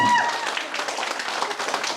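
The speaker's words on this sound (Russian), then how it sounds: "Аплодисменты, алкашлара, конечно." Guests at a wedding reception in a cafe break into dense, steady clapping that fills the room. A brief tone sounds at the very start, then the applause carries on at an even level throughout.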